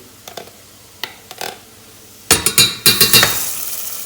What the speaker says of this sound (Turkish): Bunu da kavuruyorum.